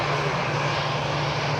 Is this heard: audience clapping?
no